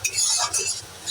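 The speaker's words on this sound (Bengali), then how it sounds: "মশলাটা এবার ভালো করে কষাবো যতক্ষণ না আদা রসুনের গন্ধটা যাবে" Ginger-garlic masala for egg korma being stir-fried in a pan: a brief burst of scraping stirs over a soft sizzle, close up.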